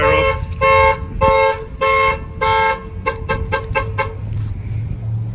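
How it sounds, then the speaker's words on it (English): A fleet car alarm installed on a work vehicle sounds off nearby: five long, loud steady tones followed by a quicker series of short pulsing chirps, with a low engine-like rumble underneath. "if they do bust the window to get in, the alarm will fire off"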